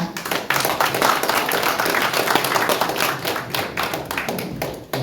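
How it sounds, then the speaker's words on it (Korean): A lecture audience claps steadily and loudly for about five seconds as a former head of the Korea Institute for National Unification is welcomed to give a talk on the North Korean nuclear threat; the dense clapping stays near and even throughout. "큰 박수 부탁드립니다"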